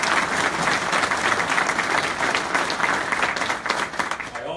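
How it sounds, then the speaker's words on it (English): A large audience at a city's State of the City address in Fall River claps continuously, loud and dense throughout, with no pauses in the steady roar of hands. "give them all a huge round of applause"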